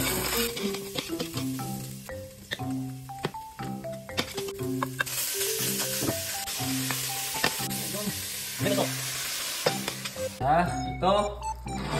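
Garlic and onion frying in olive oil in a home kitchen, a steady crackling sizzle running throughout under music, with a brief louder burst near the end.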